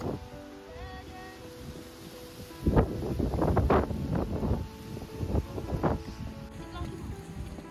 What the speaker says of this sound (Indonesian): angin kencang juga tak mau ketinggalan, seolah-olah ingin ikut serta mengantarkan kami menuju puncak Gunung Andong ini